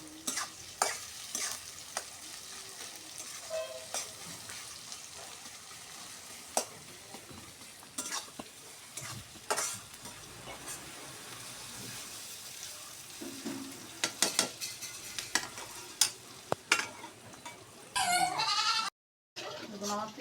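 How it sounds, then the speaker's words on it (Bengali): Onions frying in oil in a pan for a Bangladeshi pangas fish dish, a steady close sizzle broken by frequent sharp clinks and scrapes of a spatula stirring, with a brief dropout near the end. "পেঁয়াজ এগুলা সুন্দর করে বাদামি কালার করে ভেজে নিচ্ছি।"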